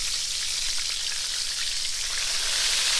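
Chicken cutlets for chicken fried chicken crackle and sizzle steadily in a pan over low heat, a dense, even hiss that holds for about three seconds with no voices.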